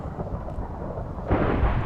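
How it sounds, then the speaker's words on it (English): Rain and thunder in the video game Magic Farm 3: a steady hiss of rainfall swells into a louder rumbling roll of thunder partway through, with no voices. "the rain is hurtful on this place"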